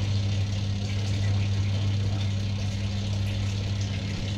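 A manual washing machine runs its spin cycle with a steady, loud motor hum that drones evenly and without a break throughout.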